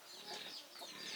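A flock of many farm chickens, including small chicks, clucking and chattering softly together in an ongoing, fairly even murmur without clear talk.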